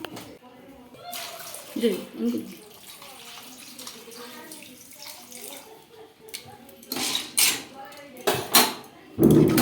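Water is poured into a wok holding pond snails, ready to be boiled with a little salt. Splashing, gushing bursts come in a few separate pours, with quieter stretches between and a person talking.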